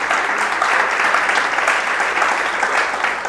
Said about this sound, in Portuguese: Você pode aplaudir Jesus Cristo por isso?